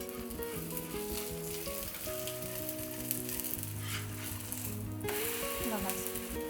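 Breakfast batter frying on a pan after being flipped, a continuous close sizzle under background music, with occasional spatula scrapes.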